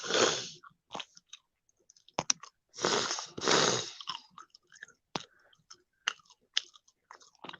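Someone chews a crunchy quesadilla up close, with loud crisp bites and crunches coming in irregular bursts separated by short quiet gaps.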